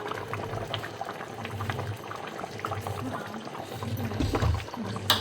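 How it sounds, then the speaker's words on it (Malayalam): Raw coconut oil poured into simmering fish curry, a soft close liquid trickle over steady bubbling and low sizzle, moderately quiet and continuous. "അതിലേക്ക് നമുക്കൊരു ഇച്ചിരി പച്ച വെളിച്ചെണ്ണ ഒഴിച്ച് കഴിഞ്ഞാൽ സെറ്റാകും"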